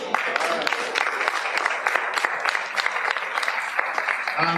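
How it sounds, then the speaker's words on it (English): A crowd gives the Mayor a round of applause at a Back to School Extravaganza, brisk scattered clapping sustained for a few seconds before a voice returns at the close. "Another round of applause for the Mayor"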